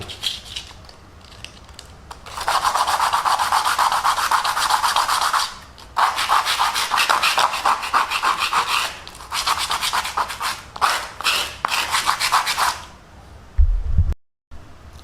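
Sandpaper rubs against a handmade impeller blade for a 1.5-inch water pump, giving a close, continuous scratchy rasp in long strokes with brief pauses and a thump near the end.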